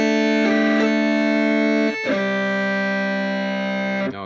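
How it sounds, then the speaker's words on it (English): Distorted notes from a Yamaha EZ-30 electronic keyboard play an overdriven guitar voice, a few sustained buzzing chords held loud and alone with sharp attacks between them. "now that has a bit more punch to it than the default overdrive guitar sound"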